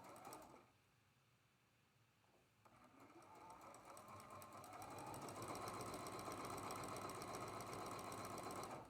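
A sewing machine hums into a continuous stitching run while piecing traditional quilt blocks with a quarter-inch seam, starting quietly and building to a steady, even whir that holds for several seconds.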